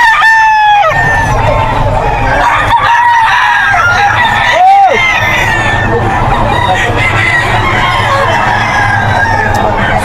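A roughly eight-month-old stag rooster from a Bulacan farm crows at the Bocaue pet market, with several loud calls from nearby birds and occasional clucking over a busy market hubbub and voices.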